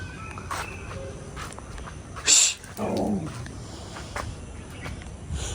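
A dog lets out a short, low growl outdoors at another dog, with footsteps and faint background sounds around it.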